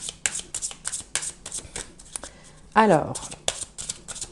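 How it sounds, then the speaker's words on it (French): Tarot cards shuffled by hand in quick bursts of crisp riffling and flicking, up close. A voice speaks briefly partway through. "on va tirer évidemment quelques cartes pour essayer d'y voir plus clair"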